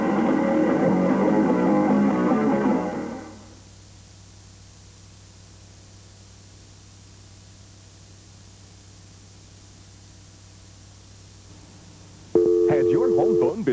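A telephone disconnected tone plays in a radio commercial: an announcer speaks first, then comes a long near-silent gap, and finally a loud rising sequence of electronic beeps cuts in.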